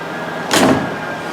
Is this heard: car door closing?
yes